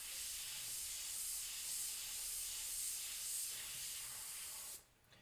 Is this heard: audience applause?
no